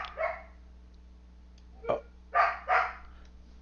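Pepper the dog barking indoors, a few short, faint barks spaced apart over a low steady hum.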